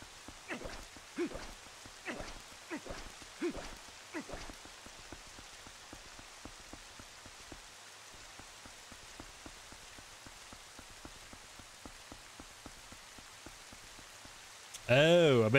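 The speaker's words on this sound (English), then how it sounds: "Yay, back outside in the rain." Steady rain pours down continuously in the video game Zelda: Twilight Princess, with soft speech bursts early on and a sudden loud noise at the very end.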